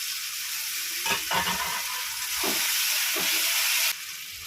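Chopped tomato goes into spices frying in a pan for a fish curry. The result is a loud, steady sizzle and hiss with a few scraping stirs, easing slightly near the end.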